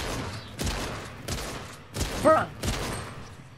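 Video game fireworks go off in a series of sharp crackling bursts at roughly half-second intervals, with a brief whistling shriek in the middle, while a player exclaims over them.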